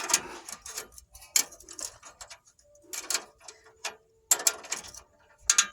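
An exhaust pipe fitting being tightened with a ratchet, heard as short bursts of close mechanical clicking and ratcheting separated by quiet gaps.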